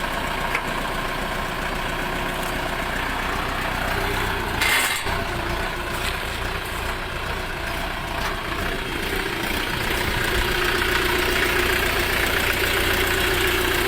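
A Shifeng 404 four-wheel-drive mini tractor engine idles steadily and loudly up close, a continuous low rumble with a brief clunk partway through.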